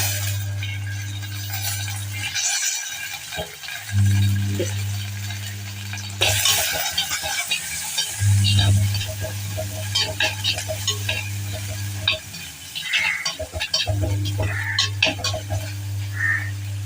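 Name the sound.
stirring spices frying in a pan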